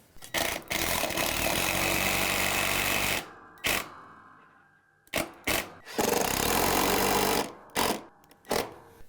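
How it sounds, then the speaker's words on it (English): A power driver drives construction screws into the metal brackets of an attic ladder, heard as several sustained whirring bursts broken by short pauses and sharp stops, close and loud. "So I'm going to go right in these metal brackets with some construction screws."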